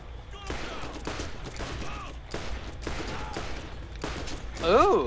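SMG and other gunfire in the video game Borderlands, bursts of rapid shots repeating every second or so at moderate loudness while players talk over the action.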